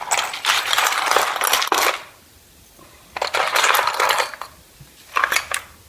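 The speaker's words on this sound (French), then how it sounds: "Donc je vais prendre la breloque." A small metal charm clinks and jingles as it is picked up and handled, close by, in three bursts of bright rattling separated by short quiet gaps, with no one speaking.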